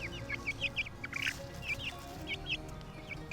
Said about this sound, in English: good food for the chickens, and you can hear them and see them munching on it down there maybe.